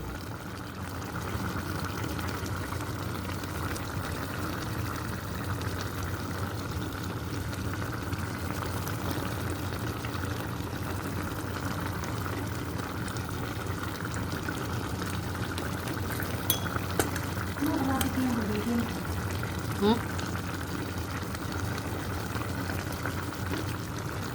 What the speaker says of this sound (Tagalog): ito na po yung ating bangos. Nahiwa na po natin at iluto na po natin